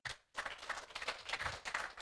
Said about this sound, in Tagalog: Ayan, so palakpak ulit.